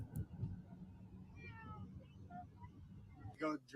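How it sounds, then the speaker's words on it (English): Faint muffled cat meows from inside a duffel bag, a few short cries spread through the clip, one louder near the end, over a low background rumble. "Hear the cats in the duffel bag?"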